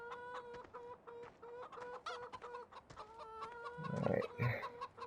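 Rooster and hens in Farming Simulator 15 on PS4, a steady run of repeated clucks and short calls with a fuller, louder burst of squawking near the end, no talking.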